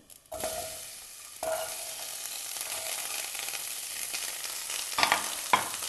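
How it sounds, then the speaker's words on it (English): Vegetables hitting hot oil with popping mustard seeds for a vegetable pullao, a sudden burst of sizzling that settles into a steady fry, with a few sharp clinks of stirring near the end. "The vegetables go in."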